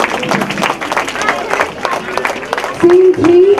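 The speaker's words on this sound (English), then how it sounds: "Can we have a big round of applause" An audience claps for a performer at a school skit, a moderately loud, steady burst of many hands with a brief voice and babble mixed in.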